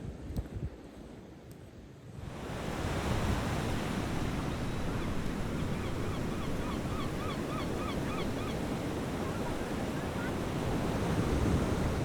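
Surf on a beach in the Shetland Islands, a continuous loud roar of breaking waves and wind buffeting the microphone, with faint bird calls honking in the distance partway through.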